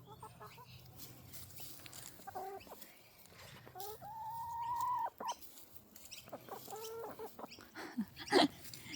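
Backyard chickens being fed, clucking and squawking near and far in overlapping bursts with a drawn-out cackle midway, while people chat and laugh softly in the background.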